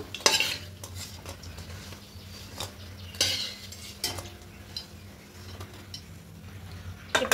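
Fried raw potato fritters being lifted out of a pan, with a soft continuous frying hiss under a few sharp metal scrapes and clinks of a utensil, close by.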